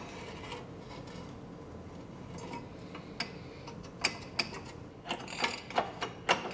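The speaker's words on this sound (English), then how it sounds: "So now we'll put the little wrench end on there. And then we get the inner tie rod end tool over it." A ratchet wrench clicks on an inner tie rod end tool during steering repair on a Subaru Forester, first faint workshop ticking, then a few sharper, louder ratcheting clicks near the end.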